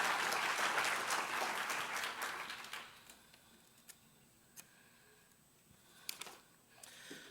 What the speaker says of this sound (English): Give Dr. Williams a big round of applause